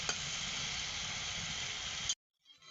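Water mixed with turmeric and chili powder poured into a frying masala, giving a loud, continuous steamy sizzle close by that cuts off abruptly, followed by faint bubbling.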